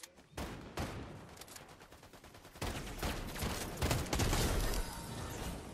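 Gunfire in Fortnite cracks out in dense, rapid bursts, loud and close, with a brief pause before a heavier second volley that keeps going to the end.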